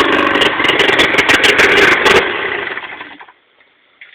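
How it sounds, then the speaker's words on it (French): A small motor runs loudly and steadily at close range, then dies away and falls almost silent near the end. "Ah, sinon, il a démarré."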